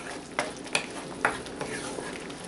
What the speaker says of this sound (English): Give it a nice mix. Stir it for a while.